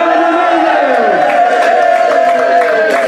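A crowd at a school football under-15 trophy presentation cheers and shouts together, loud and close, with voices rising in a sustained swelling roar over about three seconds.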